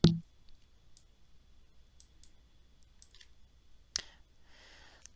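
A computer mouse gives a handful of faint, scattered light clicks at a steady pace, with one louder click near the end, in a quiet room.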